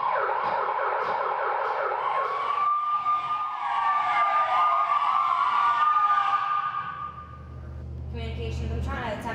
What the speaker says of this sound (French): Sirène. Action.